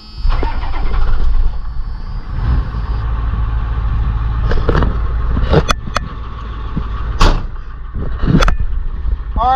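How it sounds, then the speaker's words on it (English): A pickup truck's engine cranks, catches and settles into a loud, close idle as it warms up, the revs rising and dipping with a few sharp clicks and clunks along the way. "Alright guys, I'm warming up the truck."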